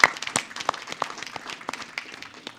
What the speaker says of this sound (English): So let's give a round of applause for LSU Shreveport Athletics